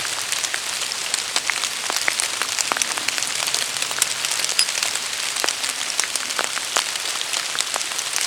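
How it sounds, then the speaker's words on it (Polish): Steady rain falls through a forest, a dense continuous patter of drops on leaves and ground with occasional sharper nearby splats, loud and unbroken throughout with no voices. "Kurczę, deszcz, deszcz zupełnie nic nie odpuszcza."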